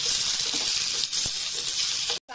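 Onion, green chillies and ginger frying in oil for palak paneer, a brief steady hiss of close sizzling that cuts out sharply for a moment at the end.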